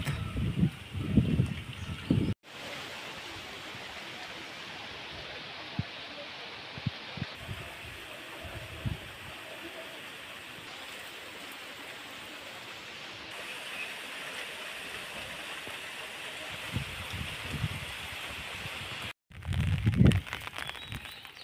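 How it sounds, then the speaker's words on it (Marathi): Early pre-monsoon rain with strong wind outdoors in Konkan, a continuous broad rushing wash of rain and wind, with brief low voices and handling bumps near the start and end. "हा असा अजून पाऊस सुटला आहे."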